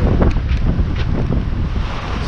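Strong wind buffets the microphone on a sailboat leaving a gulf at sea, wind against current, with rough water beneath. The roar is loud, constant and gusty throughout, with no voices.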